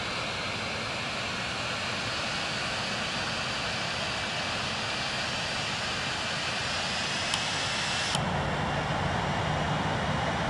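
Jet engines of an Airbus A350-900 roar at takeoff power in a flight simulator game, a loud continuous steady drone with a high whine rising slowly, with no gaps throughout.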